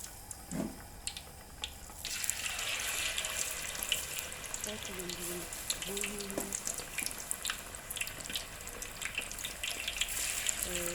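Steady crackling sizzle of flour-coated chicken wings frying in hot oil, continuous and fairly quiet, with a few faint clinks and background sounds.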